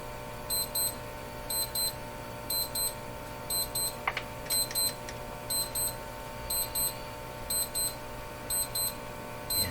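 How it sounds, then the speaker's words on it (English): An alarm clock rings beside an old Eatons Universal Electrohome floor-standing tube radio, sounding regular groups of quick electronic beeps over a low, steady hum, with a brief click partway through. "Of course, the alarm I can't stop."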